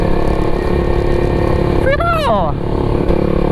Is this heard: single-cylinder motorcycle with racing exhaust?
yes